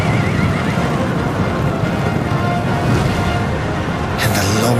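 Horses charge with soldiers in red across a Sekigahara battlefield in Nobunaga's Ambition: a dense, loud wash of hooves and neighing, continuous throughout, with a brighter flourish near the end.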